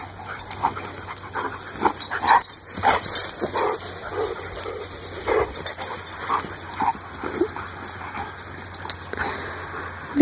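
Dogs playing off-leash outdoors, several of them barking, yipping and whimpering in bursts throughout, fairly close and lively.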